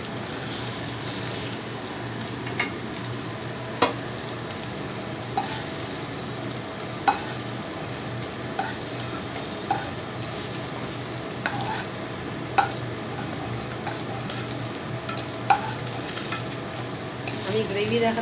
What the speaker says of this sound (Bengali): ঝোলটা ফুটতে দেবো।